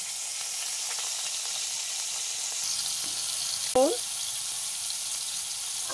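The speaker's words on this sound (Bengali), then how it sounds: "এই কড়াইতেই আলুটা ভাজা করে নিচ্ছি।" Potatoes frying in oil in a kadai on low heat, a steady close sizzle with a brief metallic clink of a utensil against the pan partway through.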